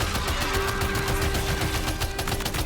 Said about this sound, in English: Let me just use the other machine gun